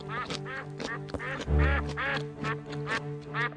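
Ducklings bred for green-shelled eggs quack repeatedly in a loud, rapid series of nasal calls, several overlapping close by, with one louder burst midway.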